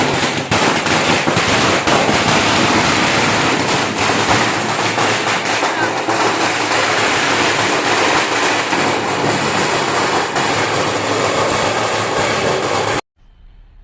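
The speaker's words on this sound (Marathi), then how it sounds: "काकाने एकदाच 10-12 फटाके फोडलेत बाहेर" A string of ten to twelve firecrackers bursting outdoors during Laxmi Puja, a loud dense crackling barrage that runs continuously for about thirteen seconds before cutting off abruptly.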